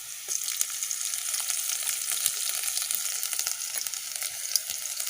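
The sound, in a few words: ginger garlic paste frying in pan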